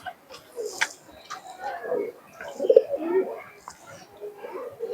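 Giribaz pigeons, a yellow-eyed pair, coo in soft low bursts at close range, with quiet talk and handling noise mixed in around them.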